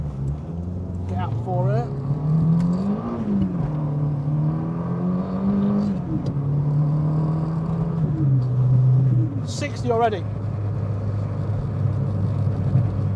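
Turbocharged Nissan K11 Micra pulling hard away from a junction, engine note climbing through revs from inside the cabin, with turbo whistle and a blow-off chirp near the end as someone talks over it.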